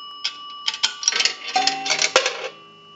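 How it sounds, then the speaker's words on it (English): An Automatic Electric three-slot payphone gongs as a quarter drops, among rattling coin clicks and clunks. Sustained metallic bell tones ring out over the clatter. The sound is close and heard alone. "We're going to go ahead and start off with a quarter, and that will gong one time."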